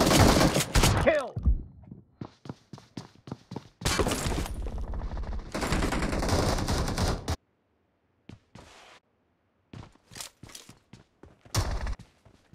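Bursts of rapid automatic gunfire from BGMI, a battle royale shooter, rattle out in loud close volleys separated by short gaps, with single sharp shots trailing off near the end.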